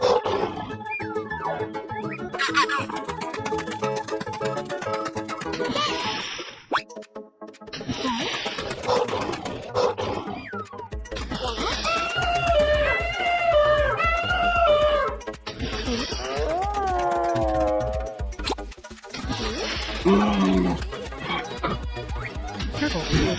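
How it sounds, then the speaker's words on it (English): A roaring lion among wild animal cartoon sounds, with long tonal growls and roars alternating with other animal calls and music-like layers, loud and continuous over about twenty seconds. "Lion."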